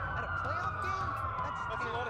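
Police sirens in the Watch Dogs video game wail continuously at moderate loudness, a wavering tone over low rumble, with voices talking over them.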